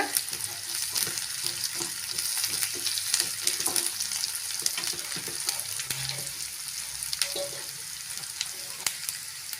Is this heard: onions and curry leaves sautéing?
yes